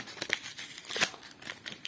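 Plastic packaging crinkles and tears as it is pulled open, a close series of sharp rustling bursts with no one speaking.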